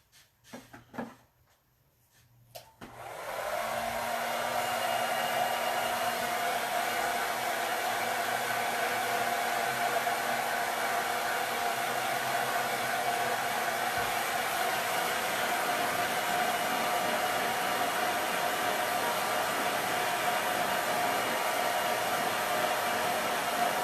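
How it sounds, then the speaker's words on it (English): A few soft handling knocks come first, then a blow dryer switches on and runs loud and steady, a continuous airy roar with a low motor hum that holds unchanged for about twenty seconds while it dries a craft surface. "And I'm going to blow dry it."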